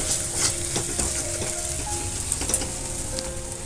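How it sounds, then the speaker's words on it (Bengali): Grated ginger goes into a potato mixture frying in a wok, giving a steady, close sizzle with soft stirring scrapes throughout and no voices. "এবারে আমি এতে দেব গ্রেট করে রাখা আদাটা।"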